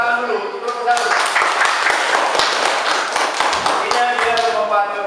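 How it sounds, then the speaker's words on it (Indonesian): Classroom applause for a student group in an Indonesian school lesson, a dense patter of many hands clapping steadily throughout, with sharp taps standing out and voices mixed in. "tepuk tangan dulu untuk kelompok 1"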